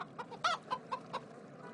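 A chicken clucks in a short burst of sharp, irregular calls, loud and close, with no talking over them.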